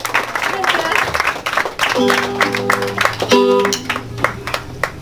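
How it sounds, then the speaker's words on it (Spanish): Applause and clapping from the guests at Carmelita's fifteenth-birthday quinceañera party in Tula, Tamaulipas, welcoming the girl. The clapping runs steadily under an announcer's amplified voice, with a sustained musical tone partway through. "brindándole un enorme aplauso"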